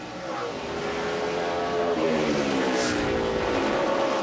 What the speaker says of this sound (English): Less than a lap to go.